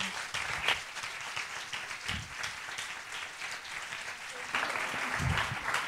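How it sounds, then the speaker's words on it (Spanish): Fairly quiet applause from an audience at a science talk, uneven and patchy throughout, with a few scattered voices and shouts mixed in. "Un aplauso"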